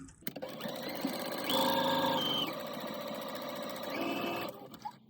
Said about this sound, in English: I'm just going to go ahead and I'm going to sew this part.